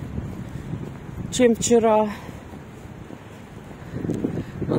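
Strong wind in Odesa in January roars and buffets the microphone throughout, with a person speaking briefly in the middle.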